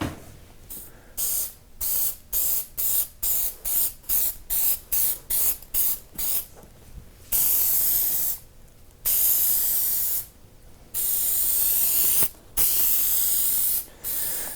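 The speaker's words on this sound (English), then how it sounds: "We've got a foam adhesive recommended for this type of application." Foam adhesive sprayed from a can onto truck seat foam during reupholstery, first as a rapid run of about a dozen short hissing bursts, then several longer sustained blasts with brief pauses, close and loud.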